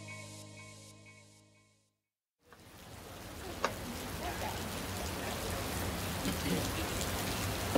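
Steady rain falls on surfaces on an evening in Rome, a continuous hiss that thickens and grows slightly louder over several seconds, with one sharp drip or tap near the middle.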